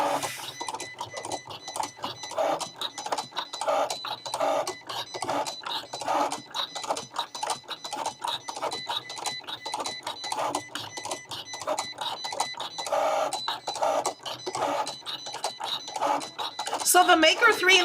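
A Cricut Explore 3 cutting machine runs in rapid, rhythmic whirring and clicking bursts as it cuts a card, while people talk and laugh over it.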